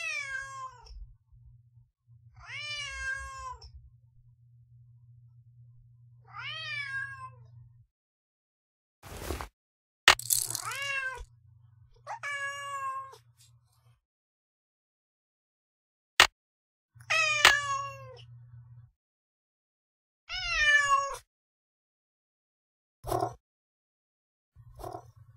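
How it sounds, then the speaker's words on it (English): A cat named Yuri meows repeatedly indoors, about a dozen distinct rising and falling cries with pauses between them, alone and fairly close, with a few short knocks and bumps in the gaps. "Otherwise, he'll just keep meowing."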